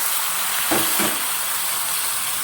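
Chopped flat beans go into a hot pan for a prawn-and-bean chorchori, raising a brief burst of sizzling over a steady background frying hiss, with no talk.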